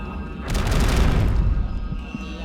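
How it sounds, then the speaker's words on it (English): Game explosions in Eternal Darkness: Sanity's Requiem, a loud booming blast with a rumbling, crackling tail that fades over about two seconds. "They're all gonna explode."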